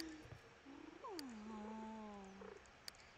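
A Sims 2 cat gives a low, drawn-out purring call, faint and steady, with a short higher chirp before it and quiet game sounds around.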